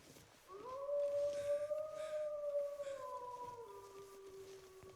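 Timberwolves howling in the video game The Long Dark, one long sustained howl rising at the start, holding steady, then sliding lower and trailing off, fairly distant and alone.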